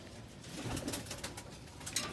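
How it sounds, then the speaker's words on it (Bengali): Benarasi Kaldom pigeons coo softly at close range, low repeated throaty calls over a quiet background. "তো এটা হচ্ছে কালদম কবুতর"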